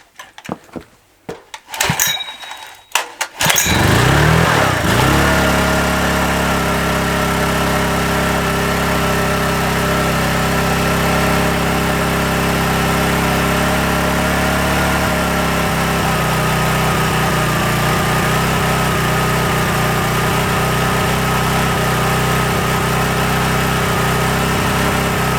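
A vintage Honda EX500 generator cranks with a few short pulls, then its engine catches and runs at a loud, steady, close idle that continues without a break.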